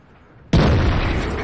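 A KV-2 tank's large howitzer fires in World of Tanks, one sudden loud blast that stays heavy and booming as the roar hangs on without fading, no voices over it.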